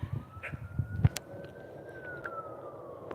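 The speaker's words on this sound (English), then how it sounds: "You hear the sirens?" A faint, distant siren wails steadily in the background, rising slightly then falling, beneath scattered close bumps and knocks.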